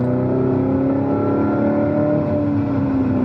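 A 2019 Corvette ZR1 (ZTK) on a race track, accelerating hard out of a corner, its engine a loud, steady, rising roar close up for a few seconds.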